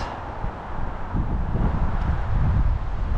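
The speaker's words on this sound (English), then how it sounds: "it's windy" Gusty late-fall wind on a New England trail buffets the microphone with a low, rumbling roar that builds and stays strong throughout.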